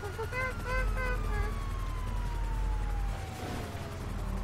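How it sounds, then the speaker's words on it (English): A police car siren in the GTA V video game wails and sweeps downward as it falters, loud and continuous over game engine rumble. "I like the way the siren is freaking out"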